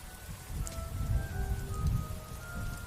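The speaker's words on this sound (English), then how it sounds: "The rain beat against the window panes, tapping on the glass with a continuous, irritating rapping." Rain beats against window panes on a stormy night, a steady, continuous patter and hiss that swells and eases slightly, with faint sustained tones drifting underneath and no talking.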